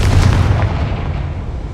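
The Confringo fire spell explodes in the Hogwarts Legacy video game as a loud, booming blast with a heavy low rumble that slowly decays over under two seconds, with no talking.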